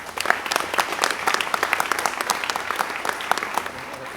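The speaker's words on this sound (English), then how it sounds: "let's give another round of applause for 4" Audience applause at a youth summer jobs press conference, steady dense clapping throughout, moderately loud and close, with no talking over it.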